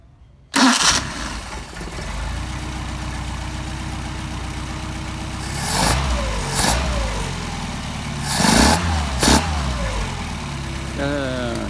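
A Mercedes 190SL with Solex carburetors fires up on a hot start, catching abruptly and settling into a steady, close idle with a couple of brief blips of the throttle, while people talk faintly nearby.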